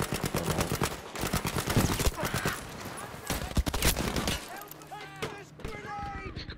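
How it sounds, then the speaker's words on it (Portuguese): Machine gun fire in Battlefield V, rapid, dense bursts of automatic shots mixed with battle noise, with people talking over the firing. "Como é que conseguem matar com aquela machine gun"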